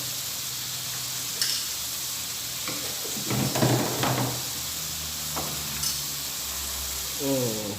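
Onions stir-frying in a pan give a steady bright sizzle throughout, broken by several knocks and scrapes of a spatula against the pan.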